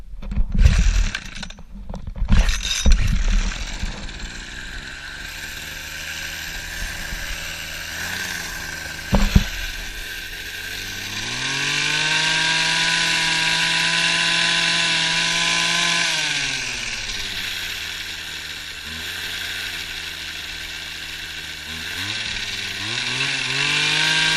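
A small trike motor with the choke on sputters and catches, then runs as a loud buzzing engine, its pitch climbing and dropping as the throttle changes.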